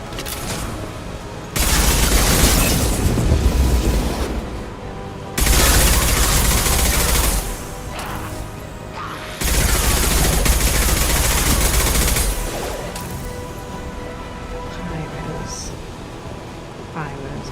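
Heavy sustained gunfire from a firefight in Mass Effect 2, loud bursts of automatic fire in three long stretches with quieter combat noise between them and a voice talking over it.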